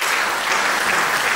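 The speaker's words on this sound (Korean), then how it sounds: "큰 박수로 환영해 주십시오" Loud, dense applause from an audience welcoming a speaker at a Korean political gathering, an unbroken roar of clapping hands with no voices over it.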